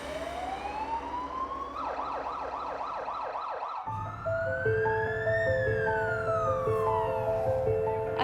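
An Australian ambulance siren sounds loud and close, a rising wail giving way to a rapid warbling yelp and then stepped alternating tones, continuous throughout with no talk.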